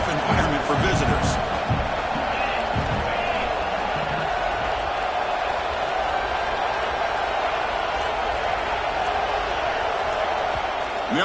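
Dense, steady arena crowd roar at an SNL vs Michigan State basketball game early on, with ball bounces, shouts and brief applause in the first seconds, then a continuous loud wash of cheering.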